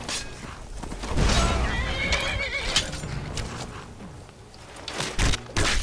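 A horse in the video game Skyrim whinnies loudly and stamps, a drawn-out neigh amid hoof clatter and battle noise, with no talking over it.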